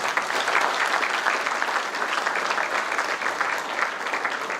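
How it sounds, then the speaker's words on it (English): An audience at a silver jubilee celebration applauds with dense, sustained clapping that holds at an even level throughout, close and steady, with no speech over it. "please give them a big round of applause"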